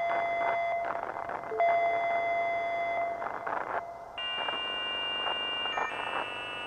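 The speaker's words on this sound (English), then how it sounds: "Sounds like my old dial-up computer." Electronic beeping and warbling tones like a dial-up modem handshake, sustained shrill pitches switching abruptly between steady notes and choppy pulses, fairly quiet with no talking.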